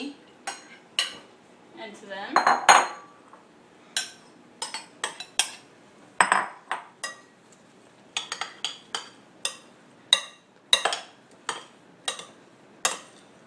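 Vegetables and other ingredients being mixed in a cooking pot, with repeated sharp clinks and scrapes of a utensil against the pot in an uneven rhythm, close by and moderately loud, with a short stretch of faint background voice.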